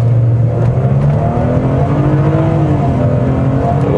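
A 2018 Mercedes GLE 350 accelerates hard from a standstill, its engine droning loud and close from the cabin, the note rising continuously through the pull with no talk over it.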